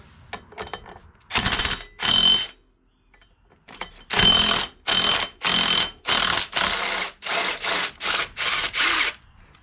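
A Can-Am engine with newly fitted clutching is being started: loud, close, buzzing cranking bursts come in a rough stop-start rhythm with brief silent gaps, and no voices.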